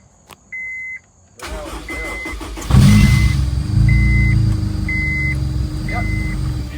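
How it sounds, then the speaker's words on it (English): A supercharged Honda S2000 engine cranks and fires up for its first start after a supercharger kit install, settling into a loud, close idle with intermittent electronic beeps over it. "added some coolant, first startup"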